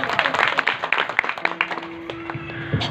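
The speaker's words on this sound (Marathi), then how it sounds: "एकदा या महाराजांसाठी जोरदार टाळी वाजवा" A crowd gives a burst of applause at a devotional gathering in honour of a Maharaj: irregular clapping and hand taps, moderately loud, fading somewhat, with a sustained instrumental tone appearing partway through.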